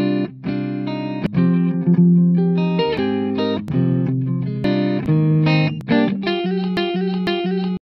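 Chunky, distorted electric guitar in a warm, glassy djent tone plays short, palm-muted chords in a choppy, stop-start rhythm, loud and upfront, with no voices.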